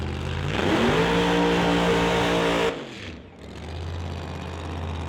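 Drag racing car built for 4-second runs, its engine roaring loud and steady close by, then cutting off sharply before settling into a lower rumbling idle.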